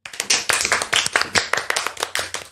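Brisk clapping from a few people close by, quick overlapping claps in a steady burst.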